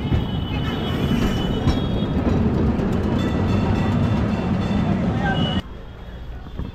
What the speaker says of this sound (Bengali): এই দেখো ট্রাম ভাই